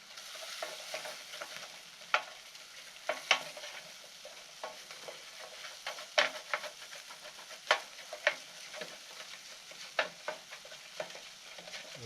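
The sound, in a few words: food sizzling in a pan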